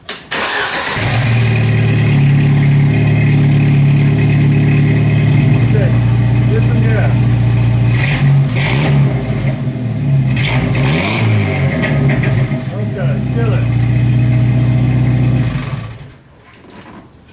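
A Jeep four-cylinder engine fitted with a Total Flow muffler cranks, catches and idles loudly up close, rising through several revs with a raspy exhaust note before shutting off; people talk briefly over it.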